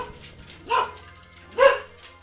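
A dog in the Valkyria Chronicles 4 demo gives two short, sharp barks about a second apart, moderately loud over a quiet game background with no talking.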